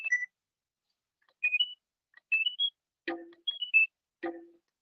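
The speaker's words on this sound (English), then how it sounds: "laggy beep again" A household appliance, likely a dishwasher starting a cycle, gives a series of short electronic beeps in stepped tones with pauses between groups, interleaved with two brief clunking clicks, close and clear in a quiet room.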